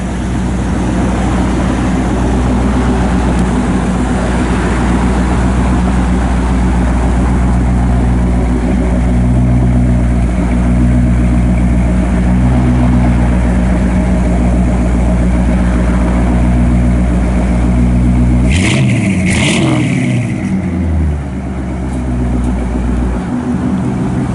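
A 1957 Chevrolet 210 Bel Air engine runs steadily at a loud, close idle, with a low rumbling drone throughout and a brief sharper disturbance near the end.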